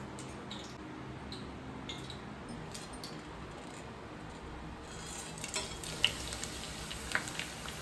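Ghee heats in refined sunflower oil in a pan, giving a quiet, steady sizzle with small sharp crackles and pops that pick up toward the end.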